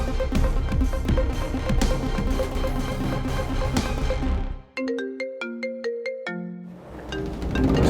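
A phone ringtone for an incoming call plays a bright, electronic chime melody alone after music cuts out, clear and close, before the music swells back in.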